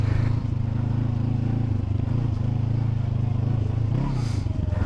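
A Honda NX500 motorcycle ridden off-road on slippery ground, its engine droning close and steady with a few rises and dips in revs, plus faint scrapes and clatter underneath.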